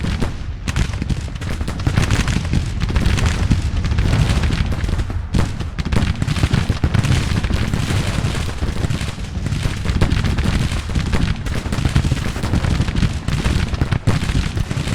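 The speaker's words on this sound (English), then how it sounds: "The artillery is starting to lay down canister fire on them." Artillery canister fire in Grand Tactician The Civil War, a dense, continuous rumble of booms and crackling gunfire, loud and unbroken with no pauses.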